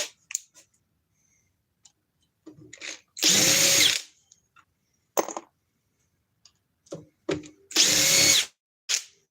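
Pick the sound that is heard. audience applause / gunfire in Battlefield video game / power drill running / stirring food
power drill running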